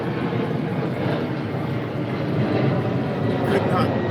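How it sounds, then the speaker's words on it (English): Airplane flying overhead above a garden, a steady broad engine rumble and roar that swells slightly toward the end, continuous throughout. "I'll wait for the plane."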